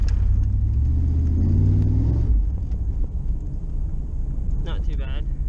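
An LT1 350 small-block V8 in a Z28 Camaro revs loudly at high RPM with a deep, steady roar for about two seconds, then settles into a rough idle rumble.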